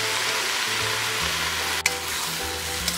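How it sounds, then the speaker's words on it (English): Bok choy frying and being stirred in a pan with soy sauce, a continuous sizzle with scraping stirs and a brief clatter partway through, close and moderately quiet. "Fry and stir. Add 2 tablespoons soy sauce."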